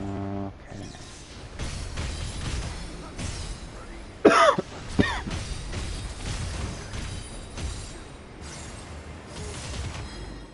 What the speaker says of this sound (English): I'm sure coughing whenever you leave the house is normal.